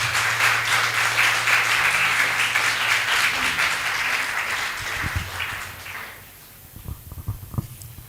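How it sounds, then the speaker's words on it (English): Audience applause at a mental health conference in Ho, Volta Region, a dense steady clapping crowd for about six seconds that thins out, leaving a few scattered claps and faint room noise. "Let's clap for them."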